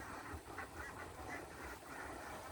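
Ducks being bought at a farm quack and honk in a dense, continuous flock chorus, loud and close, with no voices over it.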